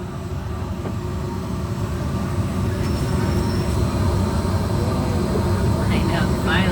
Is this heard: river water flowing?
no